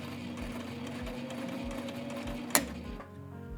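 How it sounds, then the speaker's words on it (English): Sewing machine running steadily in reverse with the backstitch lever held down, a continuous motor hum with a regular stitching pulse and one sharp click near the end. "we're going to hold down our reverse lever and sew over the first few stitches again"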